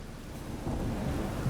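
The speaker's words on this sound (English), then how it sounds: "A storm, damn it." Thunderstorm in The Witcher 3: Wild Hunt, a low, broad rumble of thunder with steady rain hiss that swells midway and stays loud to the end, with no voices.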